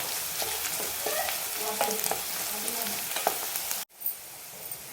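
Spring onion stalks sauté in hot oil with a close, steady sizzle and occasional stirring scrapes, then cut off abruptly near the end with a brief rustle after.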